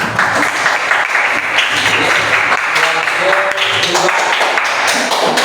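Loud, sustained applause from an audience at a university teacher-training session, steady dense clapping for over five seconds with faint voices mixed in.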